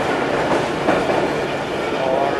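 A passenger train on a summer vacation special service runs steadily on its tracks, a loud continuous rumble with faint clickety-clack heard from on board, with no talk.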